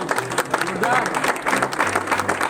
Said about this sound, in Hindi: मैं चाहता हूं कि एक बार जोरदार तालियां सर के लिए होना चाहिए